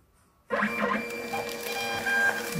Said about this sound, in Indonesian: sekarang kita akan coba print ya. Dengan 3 buah ini.